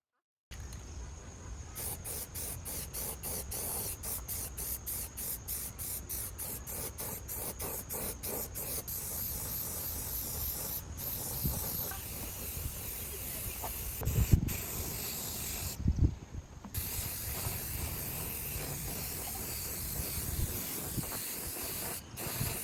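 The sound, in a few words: spray paint can spraying a top coat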